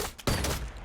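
A single sharp rifle shot fired without a scope in the Predator video game, close and loud, with a brief tail of noise after the crack.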